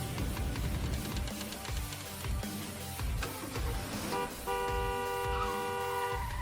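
Car horn honks and a crash inside the Danganronpa video game, a few short toots over busy game noise, then a steady sustained horn tone held to the end.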